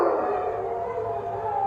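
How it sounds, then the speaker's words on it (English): Eerie, drawn-out hyena call, a single sustained wavering howl-like cry that holds steady for the whole stretch without pauses. "Hyenas are famous for their strange laughing sounds."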